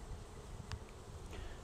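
Honey bees in an opened hive during a swarm follow-up inspection, a faint steady hum with a few brief closer buzzes from bees passing by, no voices.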